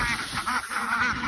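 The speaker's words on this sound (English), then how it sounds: "I guess we should feed the ducks too before we go." Ducks quacking repeatedly on a farm with chickens, a steady run of nasal calls close by with no voices.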